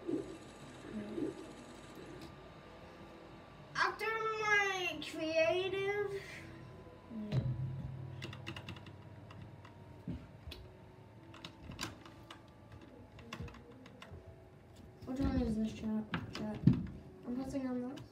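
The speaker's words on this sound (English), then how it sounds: "Everybody's typing." People typing on computer keyboards, with a steady scatter of sharp keystroke clicks throughout and short stretches of voices talking over them.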